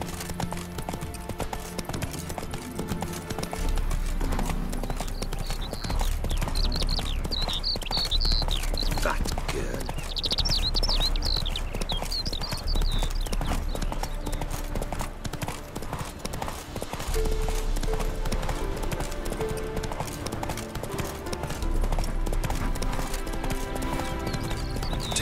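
Hooves of Roach, the horse in The Witcher 3 video game, clip-clop steadily at a gallop throughout, layered under dense game music and ambience, with a brief whinny-like tone midway.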